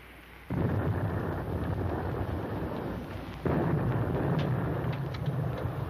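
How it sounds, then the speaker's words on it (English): Depth charges exploding underwater near a WWII aircraft carrier, heard as two heavy low booms, one starting early and another about three seconds later, each followed by a sustained deep rumble. "Our escort must be dropping depth charges."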